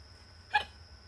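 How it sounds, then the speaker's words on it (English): A single short human hiccup, faint and close, standing alone against quiet background hum. "Excuse me, hiccups."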